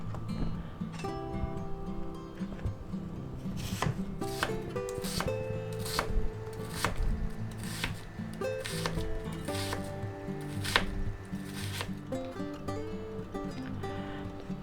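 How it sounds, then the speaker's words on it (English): Half a yellow onion being cut with a knife on a board: a series of distinct, irregularly spaced chops and slicing strokes, close and crisp, over quiet background music. "now we're going to cut up this yellow onion here"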